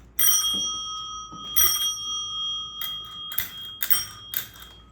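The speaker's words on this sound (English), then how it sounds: "Here's my brass bell." A bright brass bell on an old bicycle rings repeatedly in short metallic dings, close and clear, with no voices.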